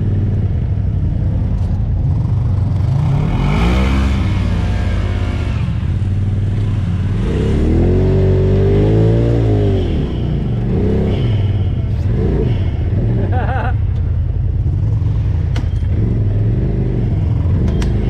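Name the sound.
Kawasaki KRX 1000 side-by-side engine revving on trail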